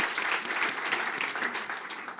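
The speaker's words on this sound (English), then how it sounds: "So big round of applause, please, for Gwyn Hughes." Audience at a book festival event applauding, a steady, dense clapping from a full room that holds evenly for a couple of seconds without cheering.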